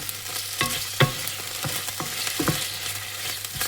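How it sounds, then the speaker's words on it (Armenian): Oil sizzles steadily in a pan while frying the base for a mushroom sauce before the mushrooms go in, with a spatula scraping and stirring in irregular strokes over the constant crackle. "Հիմա ես մի քանի րոպե կտապակեմ, հետո նոր սունկը կավելացնեմ։"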